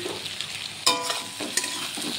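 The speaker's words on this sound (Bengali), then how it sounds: "নুনও দিয়ে দিলাম একটু আলুর সাথে, দিয়ে একটু কষে নিই।" Potatoes with fried prawns and salt sauté in a pan, a close crackling sizzle with scraping stirs and a couple of sharper clatters of the spoon against the pan.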